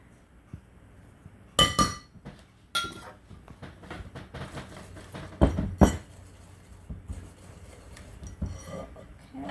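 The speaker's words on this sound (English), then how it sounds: "I'm going to go ahead and switch to my whisk now that I have it started a little bit" A whisk stirs pecan pie filling in a bowl, giving close, bright clinks and clatters in a few loud bursts with softer scraping and tapping between them.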